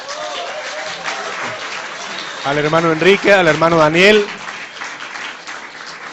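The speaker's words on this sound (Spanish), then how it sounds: "Demos un aplauso grande al" An audience at a round-table Bible discussion applauds steadily while someone speaks over the clapping, his voice rising louder in the middle.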